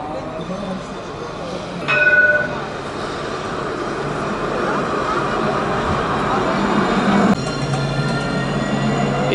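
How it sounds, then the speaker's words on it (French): Orange tram pulling away, with a steady rolling rumble and rattle of wheels on rails, a brief metallic clink and squeal, and a rising hum as it departs. "Et voilà ce tram orange qui s'en va"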